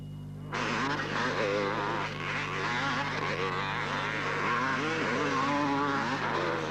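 Several 1978 motocross motorcycles, Honda, Kawasaki, Yamaha and Suzuki, rev loudly over a jump at an Australia versus New Zealand race, a continuous roaring engine drone that swells and wavers throughout.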